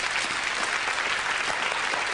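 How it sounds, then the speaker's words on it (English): Audience applause for the medium Debbie McGee at a magic show, a dense, even burst of clapping from a crowd that holds steady throughout. "we give a nice round of applause to the medium"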